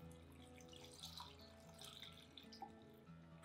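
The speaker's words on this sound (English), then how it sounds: "So now I'm just gonna pour this over it." Liquid being poured over pineapple scraps in a container to make tepache, a faint continuous trickling and splashing stream with small bright drips.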